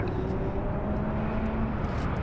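An Air New Zealand Boeing 777 airliner taxis at Las Vegas airport, its engines producing a steady, heavy roar with a faint sustained whine on top, continuous and fairly loud at a distance.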